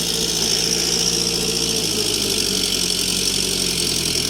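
A tractor fitted with a rotavator runs in a steady, close idle with a low engine rumble and constant vibration, and no voices are heard.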